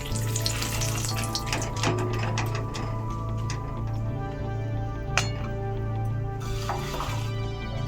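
Dried red chillies and bay leaves fry in hot oil, a loud continuous crackle and sizzle with scattered pops and a low steady hum underneath.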